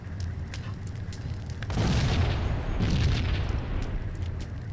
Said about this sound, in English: grenade to the face?